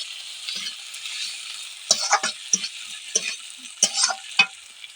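Tomatoes and green chillies fry in a pan under a low, steady sizzle, while a spoon stirs them in a run of sharp, irregular scrapes and taps that grow busier toward the end.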